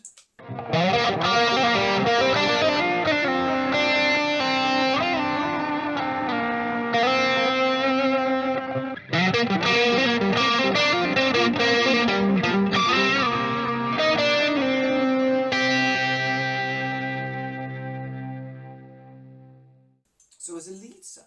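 Overdriven electric guitar through a TS9 pedal boosting an amp plays a sustained melodic lead with bends and held notes, loud and continuous, fading out near the end.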